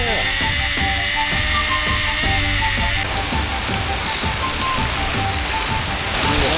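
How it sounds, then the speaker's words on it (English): Constant heavy rain hisses over a rhythmic mechanical clicking of a zip line, like a ratcheting pulley, running throughout without pause, in Siem Reap, Cambodia. "Zip line in the rain."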